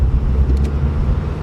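An LS-swapped Mercedes rolls forward with the parking brake engaged, a loud, close, steady low engine rumble with no talking.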